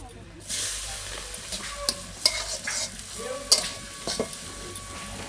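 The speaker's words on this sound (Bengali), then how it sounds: "কড়াইতে আমি কুচানো পেঁয়াজগুলো দিয়ে দিচ্ছি।" Chopped onions drop into hot oil in a kadai left from frying fish. A sudden loud hiss breaks out, then settles into sizzling as the onions are stirred with repeated close scrapes and taps.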